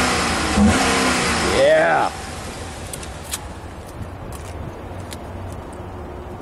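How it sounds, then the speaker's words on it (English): A 2009 Holden Commodore SS-V V8 engine revs hard for about two seconds with a rising then falling note, then drops back to a low steady idle, heard up close while a person briefly speaks. "We'll just give it a rev so you can hear the V8."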